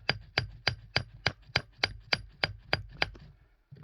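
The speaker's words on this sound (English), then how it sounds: "There's lots and lots of little hits." Sharp, evenly spaced taps of a small hammer on rock at Topaz Mountain, breaking open vugs, eleven or so bright hits at a brisk pace, close up, ending in a faint scrape.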